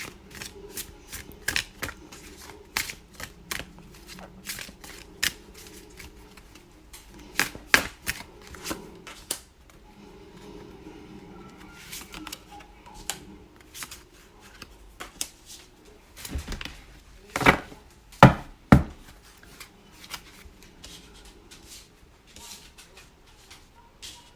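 Tarot cards being shuffled by hand, a run of crisp riffling bursts and soft slides with short pauses, close and fairly quiet, with no talk over them.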